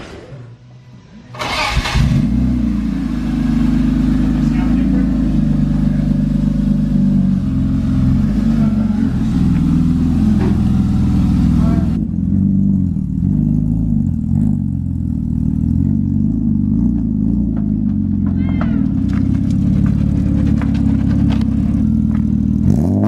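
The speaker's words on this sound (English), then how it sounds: "is an exhaust clip." A BMW E36 with a DIY exhaust starts up with a burst, then the exhaust rumbles at a deep idle and revs repeatedly, loud and close, with no one talking.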